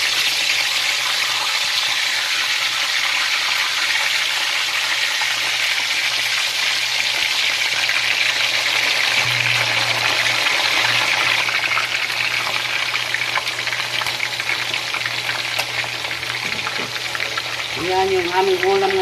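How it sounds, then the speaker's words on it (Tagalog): Marinated chicken tocino frying in a pan, a loud steady sizzle and crackle of hot oil running throughout, with a voice briefly heard near the end. "Tosinong manok. Ayan. Prito natin yan guys."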